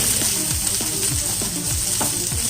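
Onions sauté in oil in a pan over medium heat, a steady close sizzle broken by regular scraping strokes of stirring every half second or so.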